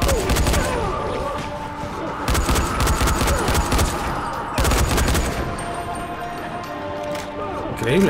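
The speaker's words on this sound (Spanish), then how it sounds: "Vale, tira unos petardos." Rapid crackling bursts of firecrackers go off in two dense clusters amid the busy soundtrack of the game Dying Light on PS4, with people talking over the noise.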